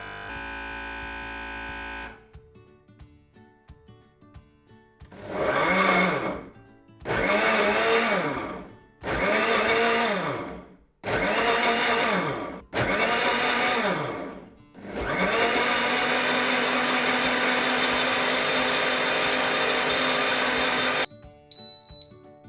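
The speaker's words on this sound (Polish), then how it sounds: "Blender odsysa powietrze" An MPM MBL 26 vacuum blender motor whirs in five short loud bursts while sucking out air, then runs in one long steady drone before cutting off.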